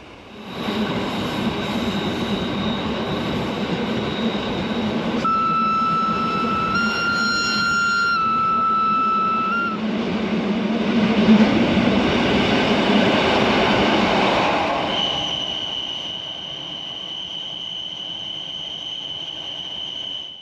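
A Rhaetian Railway Ge 4/4 I electric locomotive hauling a seasonal excursion train with open wagons through a narrow gorge, a loud steady rumble of wheels and running gear with sustained squealing tones, no voices.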